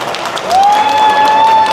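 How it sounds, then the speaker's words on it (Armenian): Guests on the bride's side clapping at an engagement celebration, a loud, dense burst of applause joined partway through by a sustained high whistling tone. "Նունեի կողմը ծափ է տալիս, Հարսիկի կողմը։"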